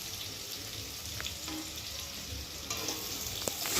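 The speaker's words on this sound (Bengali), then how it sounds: "ভালো করে একটু মশলাটা ভালো করে ভেজে নেবো" Spice masala with salt, turmeric, ginger paste and milk powder frying and being stirred in a pan for sago khichuri, a steady close sizzle with occasional scraping strokes and no talking.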